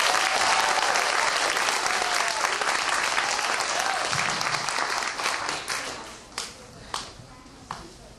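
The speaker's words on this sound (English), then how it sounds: "let's give our kindergartners a big round of applause." An audience applauds kindergartners at a school performance with loud, dense clapping that holds for several seconds, then thins into scattered final claps.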